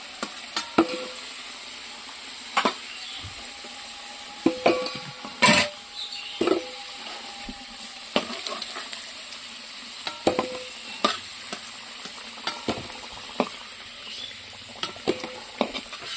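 Potatoes fry with spices in a pan, with a soft sizzle under scattered clinks and scrapes of a utensil stirring against the metal, sharp knocks recurring irregularly throughout.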